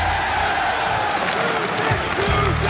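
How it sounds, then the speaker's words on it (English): Applause from a political rally audience: a dense, loud, continuous wash of clapping and crowd noise with scattered voices calling out beneath it. "Can we give a round of applause for Russia?"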